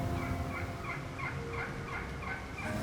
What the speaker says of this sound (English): It definitely is a gobbler.